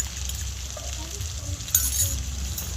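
Chili powder, salt and ginger-cumin paste fry in hot oil in a pan while cooking okra and prawn, giving a steady soft sizzle with a light clink of a utensil partway through.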